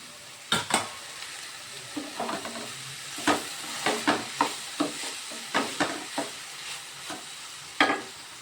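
Drumstick flowers go into a pan of fried potato and onion and are stir-fried, with a steady close sizzle and repeated scraping stirs of a spatula at an uneven rhythm.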